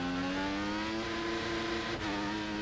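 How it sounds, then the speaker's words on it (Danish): A Formula 1 car at the Red Bull Ring in the F1 2014 video game gives a loud, sustained, whining engine note with a brief dip near the end, steady throughout and without speech. "Hold kæft, hvor bilen er træls at høre på, synes jeg."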